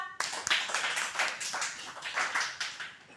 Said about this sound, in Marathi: जोरात टाळ्या वाजवा प्रगतीसाठी